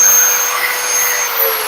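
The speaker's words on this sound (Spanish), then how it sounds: "Estamos perforando con broca de 1/4 de pulgada, broca de inicio." A DeWalt magnetic base drill bores a steel channel with a 1/4 inch starter bit, giving a steady, loud, high-pitched whine with a grinding edge that holds without a break.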